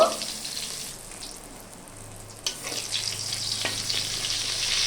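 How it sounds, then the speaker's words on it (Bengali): Eggplant pieces coated with salt and turmeric fry in hot oil in a pan, giving a steady, close sizzle and crackle that swells slightly toward the end. "দিয়ে দিলাম লবণ হলুদ মাখিয়ে রাখা বেগুন। ভালো করে আমি ভেজে নেব।"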